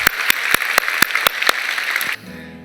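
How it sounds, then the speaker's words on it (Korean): Congregation in a Korean church clapping together in a steady rhythm, about eight loud claps at quarter-second spacing over a dense crowd of applause, then cutting off sharply to quiet. "우리 하나님께 한번 감사의 박수를 드리겠습니다."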